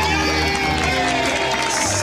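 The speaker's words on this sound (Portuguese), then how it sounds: "Aplausos!" Studio audience on a Brazilian TV variety show cheering and applauding as a guest from Santa Luzia, Paraíba comes forward, a loud continuous crowd roar with music underneath for about two seconds.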